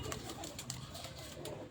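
A female breeder pigeon of the Red Gold breed coos softly and steadily, close by, with no one speaking over it.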